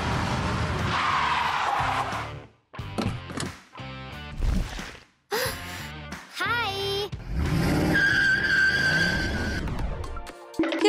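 A car pulls up with tires skidding in short, sharp bursts broken by brief gaps, then a longer squeal toward the end, heard clearly with no talk.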